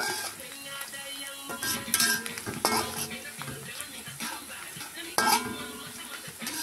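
Garlic is sautéed in a pan while cooking sayur rampuk soup. Metal utensils clink and scrape against the pan in irregular strokes, over a faint background of soft frying.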